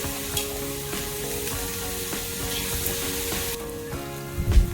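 Green chillies and salt sizzle in hot oil in a pan for a Kerala bitter gourd theeyal, a steady close frying crackle with a few light stirring scrapes and a louder clatter at the end.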